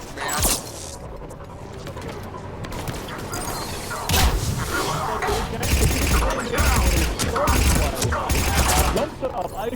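Rapid bursts of video-game gunfire crackle in repeated volleys, loud and dense, with heavier thumps after the midpoint, mixed under excited talk from players.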